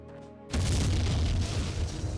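Dynamite in the Jagged Alliance 2 video game detonates with a sudden deep boom after a brief quiet lead-in, followed by a sustained rumbling roar that stays loud to the end.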